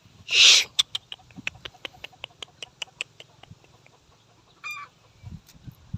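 Chickens call nearby, with sharp rhythmic clucks and chirps repeating steadily, opening with one loud squawk and a brief rattling call later.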